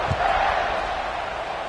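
A large crowd at a football stadium roars steadily in a wide open space, a continuous loud wash of cheering voices that holds for the whole moment.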